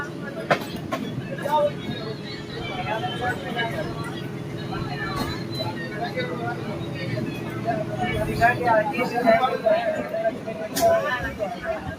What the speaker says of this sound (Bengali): আমাদের ট্রেন এখন কাঁথি স্টেশন থেকে ছাড়ছে